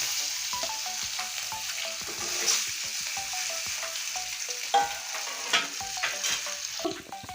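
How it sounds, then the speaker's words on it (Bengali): Fish coated in salt and turmeric fries in oil with a loud, continuous sizzle, broken by repeated scraping strokes of a spatula and a few sharp crackles. "তেলে বেশি ভাজবো না খালি মাছের আটটা গন্ধ চলে যাবে তার জন্য আমি ভেজে নিচ্ছি"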